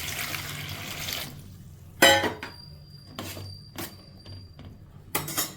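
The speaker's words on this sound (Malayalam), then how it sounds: "അതിനാവശ്യമായിട്ടുള്ള വെള്ളം കൂടെ ഒഴിച്ചു കൊടുക്കാം." Water pours into a pot of vegetables as a short rushing splash, then stops. Sharp clinks of the pot and utensils follow at close range, with quiet gaps between them.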